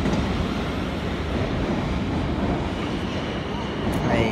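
A fast South Western Railway train at Bournemouth station gives off a loud, close, continuous rumbling roar that stays steady throughout.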